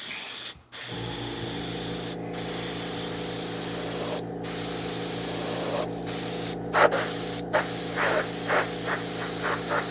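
An airbrush sprays silver and gunmetal paint onto Doctor Doom armor in a steady, close hiss, broken by several short pauses where the trigger is released, with faint spitting bursts near the end.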